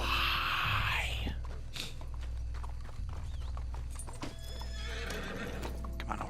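A horse's hooves clip-clop steadily in Red Dead Redemption 2, with a whinny near the start, game effects layered over a constant low hum and hiss.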